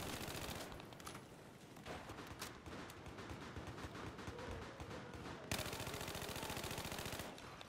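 Rapid automatic gunfire rattles in Battlefield 4 on the Metro map, dense sustained bursts of shots with a brief break before another long volley, loud and close with no voices.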